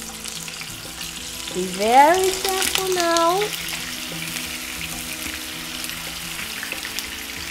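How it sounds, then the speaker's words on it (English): Sausage hits preheated vegetable oil with a rising burst of sizzling that settles into a steady close-up fry, as a voice speaks briefly over it. "we're gonna now go ahead and start frying our sausage"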